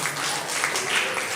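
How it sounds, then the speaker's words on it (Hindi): An audience at a Shrimad Bhagwat Mahapuran religious gathering applauding, a dense, steady wash of clapping held at an even level for the whole brief moment. "जोरदार तालियों से अभिनंदन करें।"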